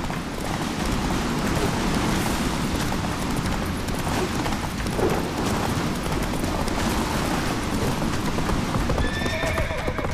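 Galloping hooves of Roach, the horse in The Witcher 3, pound in a fast, steady clip-clop under a dense layer of game noise, with an occasional whinny near the end.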